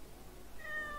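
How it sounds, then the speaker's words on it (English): Several cats meowing while eating, faint and somewhat distant, with a drawn-out meow rising near the end over a soft background hiss. "That's so many cats"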